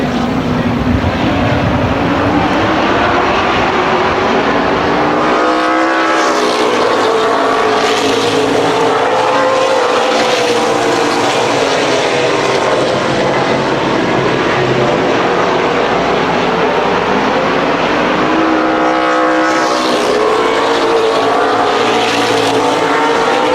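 Race cars on a motor speedway roar past in loud waves, engine pitches rising and falling as the pack sweeps by, with continuous close engine noise and no talk.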